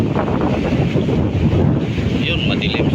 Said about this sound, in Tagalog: Siguro marinig nyo na ang hingay ng hangin.